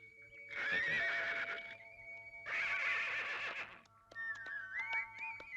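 A horse belonging to a horse-cart driver in a comedy film scene neighs in two long, loud whinnies, then gives a shorter high squeal, with no speech.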